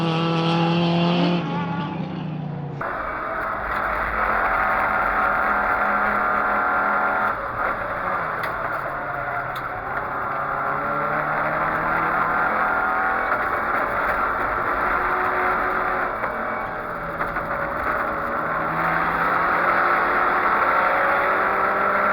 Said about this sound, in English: Despite just about reaching the neighbouring suburb, Oost managed to get the Datsun back on track